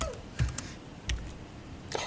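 Typing on a computer keyboard during a mob programming session, a few soft scattered keystrokes and taps, faint and close, with no speech.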